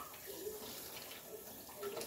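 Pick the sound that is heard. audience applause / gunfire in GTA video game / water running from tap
water running from tap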